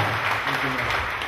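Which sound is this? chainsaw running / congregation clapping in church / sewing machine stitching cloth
congregation clapping in church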